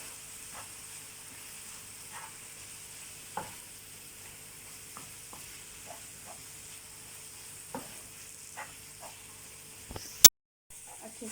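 Tomato paste for a Mexican beef burrito filling is stirred in a pan. A faint, low sizzle runs under scattered soft scrapes and taps of the spoon, ending in one sudden loud knock.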